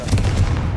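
The Confringo blasting spell fires in the Hogwarts Legacy video game, a single loud, booming burst with a deep rumbling body lasting under a second.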